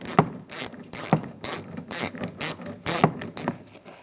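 Ratchet turning an 8mm socket on the interior door handle nut of a 1992-1996 Ford F-150, a close series of about a dozen sharp clicking strokes in quick uneven rhythm.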